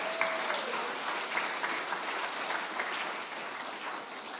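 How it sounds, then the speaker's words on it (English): A round of applause for an honoured guest at the launch of a Pacific health research centre: dense, steady clapping from an audience, fairly distant, fading slightly toward the end. "let's give Sir Colin a big round of applause"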